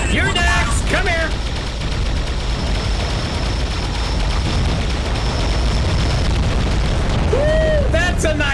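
Gunfire in the underwater combat game AquaNox, a dense sustained roar of booming blasts and bursts lasting the whole stretch, loud and continuous with sweeping electronic whines over it.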